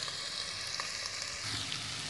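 Chopped onion frying in oil in a lidded pan, a steady close hiss of sizzling with small crackles and pops running evenly throughout, no voices.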